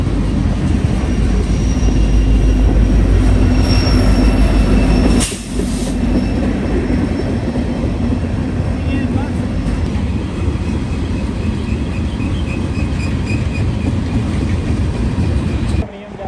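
A long westbound freight manifest train rolls past at close range near Altoona, a loud, steady rumble of wheels and cars with brief squealing and one sharp clank partway through, continuing throughout.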